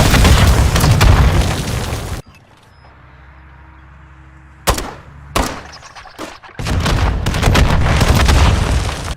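A frag grenade blast in Modern Warfare III on the Favela map: a loud, broadband roar of gunfire and rumble, a sudden drop to a quiet low hum, then sharp booming bursts before the heavy noise returns.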